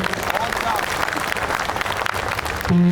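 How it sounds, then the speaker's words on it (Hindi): Audience clapping at a mushaira poetry gathering in Mira Road, Naya Nagar, a dense, steady wash of applause lasting nearly three seconds before a sustained tone cuts in at the end. "एक बार मुझे सारे लोग ताली बजा करके माहौल दें"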